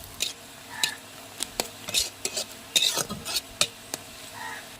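Onions fry in a pan for an egg curry cooked on a wood-fired clay stove, with scattered clinks and scrapes of stirring over a faint sizzle, close and irregular, no clear speech.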